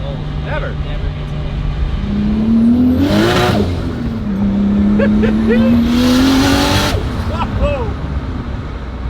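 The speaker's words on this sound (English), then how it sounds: "Oh, that wastegate opens? Yeah, dude. Oh, that's a glorious sound." An 800 whp 2JZ-swapped BMW E30 accelerates hard with a rising engine note, and its turbo wastegate lets out bright hissing whooshes on lift-off, loud and close while people talk over it.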